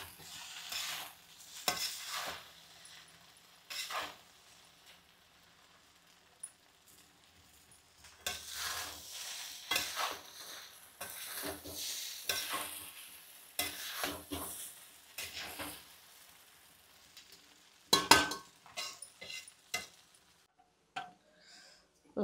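Special vegetable fried rice being stirred in a pan, irregular scraping and clinking strokes of a spoon over faint sizzling, close by, with stretches of quiet between bursts of mixing.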